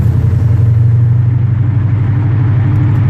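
A 2017 Dodge Challenger Scat Pack cruising in fourth gear at about 1,500 RPM gives off a steady, loud, low engine rumble that holds an even drone throughout.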